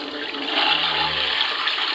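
A Japanese Sound Princess toilet device plays a recorded flushing-water noise to mask bodily sounds. The rushing is steady and continuous, close and fairly loud, with no voices.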